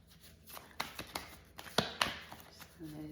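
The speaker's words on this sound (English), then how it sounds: "So I'm taking my precious time to shuffle" Tarot cards are shuffled by hand in a quiet room, giving a series of soft irregular riffles and taps over a few seconds, faint and close.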